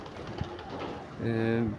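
A pigeon coos in a low, rounded burst near the end, heard over faint background murmur.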